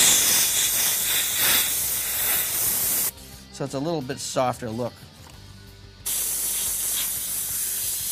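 Paint sprays onto a car to lay down realistic flames, giving a steady loud hiss that stops while someone talks and then starts again just as strongly.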